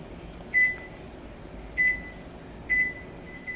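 Kitchen oven timer signalling the end of a 40-minute chicken bake: three evenly spaced, shrill electronic beeps against a low background hum, fairly close, with no talking.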